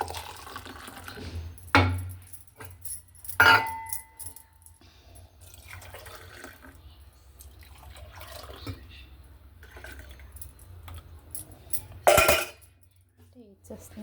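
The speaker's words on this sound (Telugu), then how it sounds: "అంటే తేనె కలడానికి అలా కలుపుతున్నాను." A metal spoon stirs honey into a cup of tea, giving a few sharp, widely spaced clinks against the cup over a quiet background.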